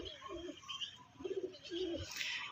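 A pair of white pigeons coo in soft, repeated throaty phrases close by, with faint bird chirps and light background noise around them.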